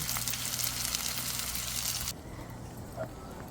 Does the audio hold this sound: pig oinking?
no